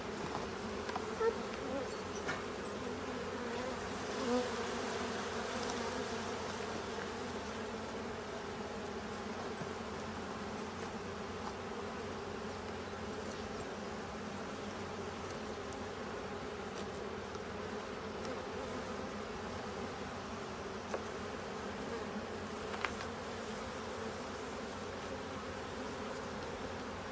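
Honey bees hum around an open beehive in an apiary, a soft, continuous buzzing swarm that stays steady throughout with a few louder passes from individual bees and no voices.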